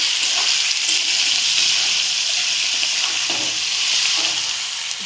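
Ground ginger paste sizzles in a hot frying pan of oil while a vegetarian banana-stem ghonto is cooked, a steady close hiss that runs unbroken throughout.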